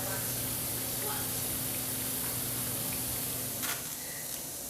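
Home-style potatoes frying in a pan, a steady soft sizzle and hiss running throughout with a faint low hum and a brief clatter near the end.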